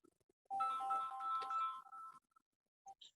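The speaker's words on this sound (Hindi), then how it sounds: "फोन कितना बज रहा है यार" A mobile phone ringtone plays a bright electronic melody for about two seconds, fairly near and clear, with a few faint clicks before and after.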